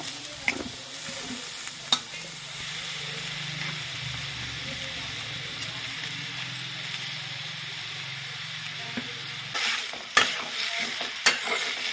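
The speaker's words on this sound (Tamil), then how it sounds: "அடுத்து வெங்காயம் நல்லா வதக்கும். இஞ்சி பூண்டு பேஸ்ட் போட்டுக்கலாம்." Onion and ginger-garlic paste sautéing in a pan for prawn gravy: a steady close sizzle broken by sharp clinks and scrapes of stirring, louder toward the end, with no one speaking.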